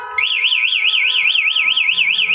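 A Honda Beat motorcycle's anti-theft alarm wails loudly and close, a rapid warbling siren tone oscillating steadily after a short starting chirp, with faint background noise beneath.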